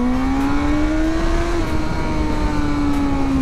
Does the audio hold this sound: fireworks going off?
no